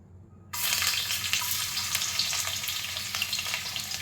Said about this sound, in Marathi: तेल गरम करून घेतलंय आणि आता आपण ह्यात ठेचलेलं लसूण पाकळ्या टाकणार आहोत